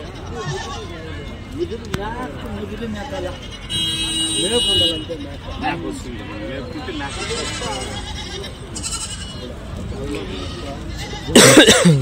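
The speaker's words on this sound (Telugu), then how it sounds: "ఇన్ని ఉండారా మేకలు, అన్ని మేకలేవి." Goats bleat repeatedly at a busy Saturday livestock market in Angallu, several wavering calls close and farther off, mixed with people talking and crowd noise.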